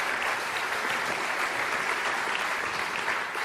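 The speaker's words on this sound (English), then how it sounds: "Give him a round of applause." An audience at a math education panel applauds a panelist, a dense, even wash of clapping held steady for a few seconds with no voices.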